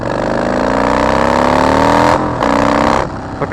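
Motorcycle fitted with Vance & Hines Short Shots exhaust with the baffles removed revs hard and loud up close, a deep rising drone climbing in pitch, briefly cut twice near the end as the throttle snaps.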